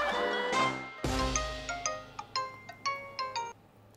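A phone ringtone plays: bright chiming notes in a quick repeating melody, moderately close, after a short rumble at the start, with no talk over it.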